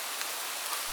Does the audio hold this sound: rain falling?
yes